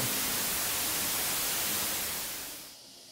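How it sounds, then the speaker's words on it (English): Dense dither hiss like steady rain fills 3-bit digital piano audio, with faint piano notes buried underneath before it thins out near the end. "So here's dither put onto that 3-bit piano."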